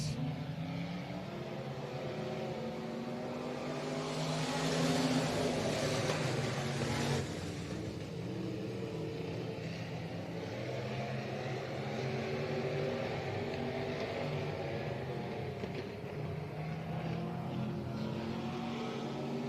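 Sprint cars start a race at Heart O' Texas Speedway in the Texas Sprint Series, with a steady dense engine roar across the field that swells briefly before settling into a continuous distant drone.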